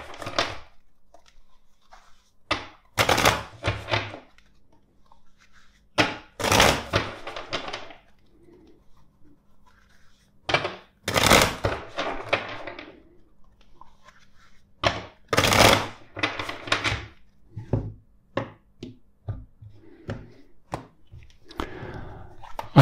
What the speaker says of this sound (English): let's shuffle the deck four times